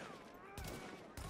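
Bursts of gunfire in The Division, two sharp broadband volleys about half a second apart over a steady game soundscape with faint tonal music.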